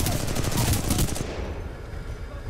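Rapid gunfire from a turret in the video game Titanfall 2, a dense loud burst that cuts off halfway through, leaving a quieter rumbling tail.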